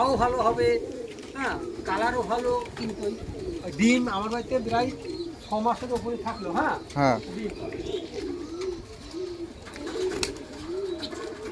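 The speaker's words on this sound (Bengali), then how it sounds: "রবি কাকার পায়রের পায়রাগুলো দেখুন আপনারা কত পায়রা প্রায় তিনশো কাছাকাছি পায়রা আছে" Dense flock of roughly three hundred pigeons at Robi Kaka's house loft coos continuously in overlapping, rolling calls close by, with someone speaking briefly over them.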